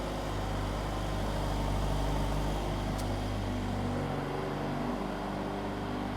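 Lotus Emira turbo engine idling close by with a steady low drone and broad rumble, a faint short click midway, no clear revs and no voices.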